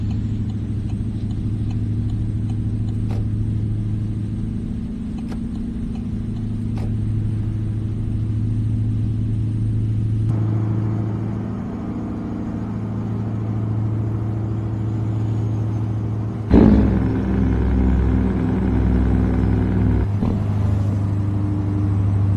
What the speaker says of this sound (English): I wanted to take this thing for a drive because I put a V8 in it.